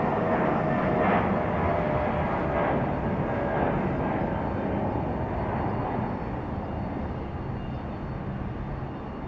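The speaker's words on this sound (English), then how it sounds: "Nice sounding departure for the A320." An Airbus A320 jet departs from Raleigh-Durham International Airport with a loud, steady broadband engine roar that slowly fades as it climbs away.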